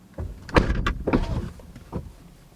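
A car door is swung shut hard, giving a loud thump followed by shorter knocks and rattles, close by with no talking.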